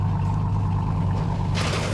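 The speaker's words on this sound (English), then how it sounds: "That truck sounds mean." A truck engine idles with a loud, steady low rumble close by, and a sharp hiss of air near the end, with no talking.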